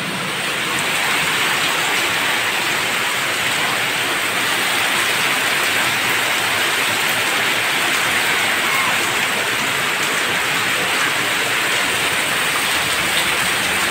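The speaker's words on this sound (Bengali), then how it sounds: "অনেক জোরে বৃষ্টি হচ্ছে" Heavy rain pours down steadily on a verandah, a dense, loud, continuous rushing hiss with no breaks over the whole stretch and no talking.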